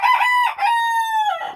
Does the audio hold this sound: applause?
no